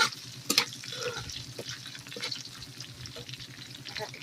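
Chicken fries desi style with garlic and bay leaf, making a moderate crackling sizzle. A few sharp clatters from stirring sound near the start, then the frying hiss stays steady.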